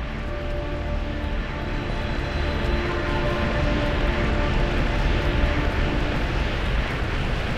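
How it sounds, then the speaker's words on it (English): VTOL aircraft engine in the video game The Talos Principle 2, a steady, loud droning hum with a broad rushing roar, holding constant throughout. "Assemble at the VTOL as soon as possible."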